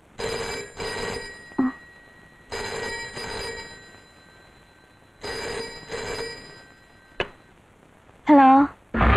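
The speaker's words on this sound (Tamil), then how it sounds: "தொடர்ந்து போன் அடிக்கிற சத்தம் கேட்டது" A telephone rings over and over inside a home in Madras, with several loud double-burst rings separated by short pauses and a brief voice-like sound at the end.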